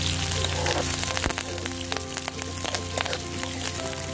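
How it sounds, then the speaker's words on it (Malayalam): Shallots, green chillies and curry leaves crackle in hot oil for a Kerala-style tempering, a dense steady sizzle with scattered sharp pops throughout, close and fairly loud, with no talking. "ഞരിഞ്ഞു വെച്ചിരിക്കുന്ന ചുമന്നുള്ളിയും പച്ചമുളകും കൂടെ ഇതാ രണ്ട് രണ്ട് കറിവേപ്പില അതുകൂടി ഇട്ട് ഇതൊന്ന് മൂപ്പിച്ച്"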